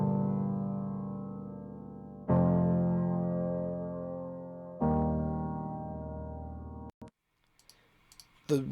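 A piano with a pitch-shifted copy one octave lower added beneath it plays three sustained chords, each ringing and decaying before the next, followed by a few faint clicks and soft noises at the end.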